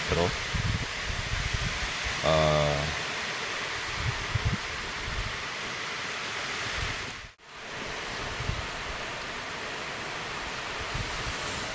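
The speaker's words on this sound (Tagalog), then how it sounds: "Walang masyadong ulan, pero ang lakas ng hangin" Strong typhoon wind roars and buffets the microphone in a continuous, loud rush with gusty swells and a brief dropout, while a person talks now and then.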